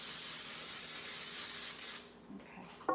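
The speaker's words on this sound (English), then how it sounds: "Just going to spray your pans just like that." A continuous close hiss of aerosol cooking spray on baking pans lasts about two seconds, then stops, followed by a couple of small clinks of a pan.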